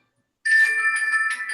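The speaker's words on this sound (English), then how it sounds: "that's my lunch bell" A chiming electronic tone like a doorbell or ringtone, used as a lunch bell, starts suddenly after a short silence and rings on steadily with a bright sustained pitch and layered overtones.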